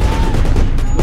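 A loud, dense burst of gunfire crackles and booms continuously through a short moment of battle noise in a war film.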